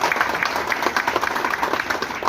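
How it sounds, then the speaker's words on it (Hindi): A crowd gives dense, continuous applause at a Bahujan Samaj Party meeting in Delhi. Many hands clap loudly and steadily throughout, with no talking. "एक बार उनके लिए पुनः से तालियों से स्वागत करें"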